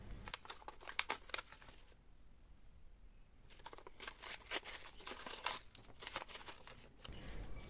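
Crinkly plastic gift bags for children's Eid party favours are opened. The plastic crinkles and tears in a steady, close rustle with sharper crackles, and no one speaks.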